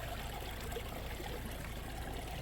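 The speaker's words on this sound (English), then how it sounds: "I just love seeing the water running under the ice." Water running under ice in winter, a steady close trickling, burbling stream that stays constant throughout, with no voices.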